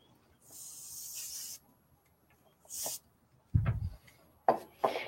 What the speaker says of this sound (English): we're going to spray it over my garbage can